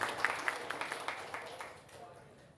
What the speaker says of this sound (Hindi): उनका भी जोरदार तालियों से स्वागत